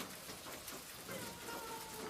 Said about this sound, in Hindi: बारिश में भीगते भीगते एक साधु बारिश से बचने के लिए आश्रय ढूंढते हुए मुकेश के बरामदे में आकर रुक जाता है